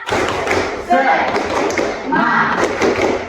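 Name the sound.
rhythmic spirit clapping by a class (tepuk semangat)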